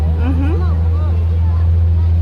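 Steady low engine drone of a motorboat crossing Dubai Creek runs throughout, with faint voices chattering over it.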